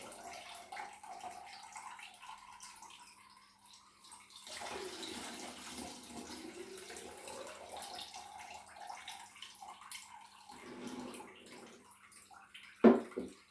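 Elderflower cordial liquid is strained, giving a soft continuous trickle and pour of liquid that swells in the middle, faint and close, with a brief knock near the end.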